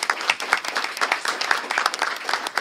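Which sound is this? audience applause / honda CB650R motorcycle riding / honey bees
audience applause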